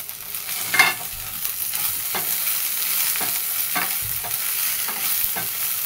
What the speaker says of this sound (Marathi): थोडेसे डाग पडेपर्यंत त्याला भाजायचं